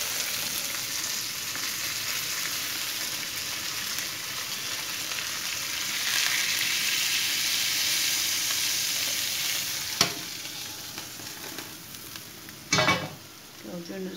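Anchovies frying in a little oil in a pan, with a continuous crackling sizzle that swells midway, followed by a couple of sharp utensil clinks near the end.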